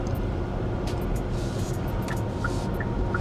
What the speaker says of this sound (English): we're pulling up a hill now